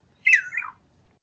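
Captive-bred regent honeyeater song: a single brief, fairly loud squawking phrase with a falling tail, heard alone over a faint low rumble.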